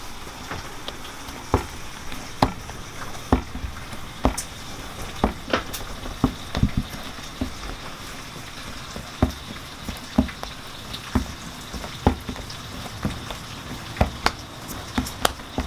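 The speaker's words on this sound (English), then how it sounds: "we tend to dry fry it" Flatbread dry-fries in a hot pan with a soft, steady sizzle and a scattering of sharp little pops and ticks, close by and with no voices.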